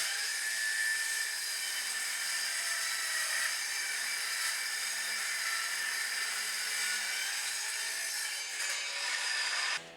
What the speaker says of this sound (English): the cordless DeWalt circular saw gives us a really good cut on that piece of material